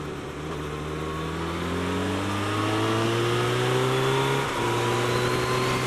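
A Suzuki Hayabusa motorcycle pulls hard, its engine note climbing steadily in pitch with one brief dip at a smooth gear change before rising again, loud and close throughout.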